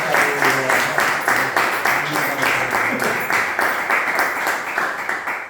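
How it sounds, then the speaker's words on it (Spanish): A room of people claps for Miguel Ángel at a book presentation, rhythmic, fairly close applause with distinct individual beats that stays lively for several seconds. "le voy a pedir un aplauso para Miguel Ángel porque es fantástico"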